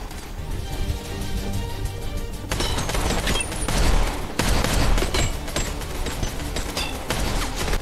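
Gunfire from the film John Wick 3, dense rapid shots and bursts layered into a loud continuous fusillade with crashing impacts, stopping briefly and then resuming.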